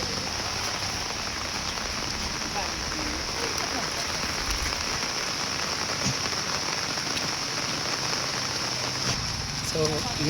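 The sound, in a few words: heavy rain falling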